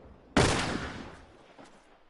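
A single loud gunshot blast in The Last of Us Part I Remastered on Grounded difficulty, sharp onset followed by a decaying echo tail and a faint second report near the end.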